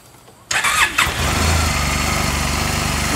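A 2009 Honda Silverwing 600 scooter fitted with a LeoVince 8552 slip-on exhaust cranks briefly, catches and settles into a steady, close idle.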